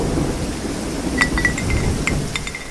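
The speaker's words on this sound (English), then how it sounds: "The storm crashed for a whole day." Thunderstorm with steady rain in a storm at sea, a continuous rain hiss with low thunder rumble and scattered drops, moderately loud and unbroken.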